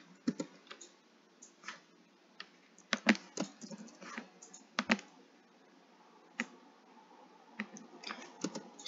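Keys clatter on a computer keyboard in an irregular run of light, close clicks, some sharper taps standing out, continuing steadily with no talking.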